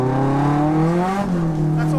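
A drift car's engine holds a steady, loud tonal drone on throttle through the drift entry, pitch dipping slightly midway, with someone talking over it.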